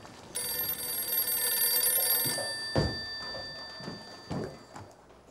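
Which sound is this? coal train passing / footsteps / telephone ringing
telephone ringing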